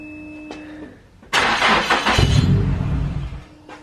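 A Nissan S15 engine cranks after a couple of short clicks, then catches and roars loudly up close, settling into a rough, uneven rumble that drops off near the end.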